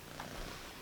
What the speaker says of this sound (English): I have a cat climbing up my leg.